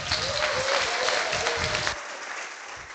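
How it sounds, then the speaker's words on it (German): An audience bursts into applause to vote during a convention's closing session, loud dense clapping for about two seconds before it thins and fades to scattered claps. "Ja, macht ruhig mit Applaus."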